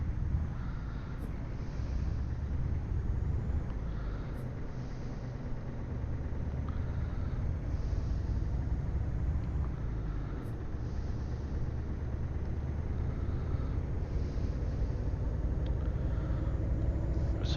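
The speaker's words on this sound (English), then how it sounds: "It's certainly got a different sound to it than the last truck I was in." Steady low diesel rumble of a truck engine idling and cruising in Euro Truck Simulator, a continuous drone with no talk over it.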